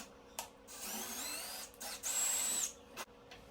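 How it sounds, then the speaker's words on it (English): A power drill boring a hole in a metal table saw rail, running in several short whining bursts separated by pauses, close and fairly quiet, with no talking. "I would go on speed 2, the faster setting, when drilling the hole"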